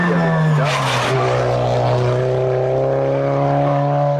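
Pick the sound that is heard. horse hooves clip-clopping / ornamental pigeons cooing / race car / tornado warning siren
race car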